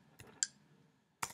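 Computer mouse clicks come as a few sharp, isolated taps in a quiet room, the last one slightly louder, with no talking.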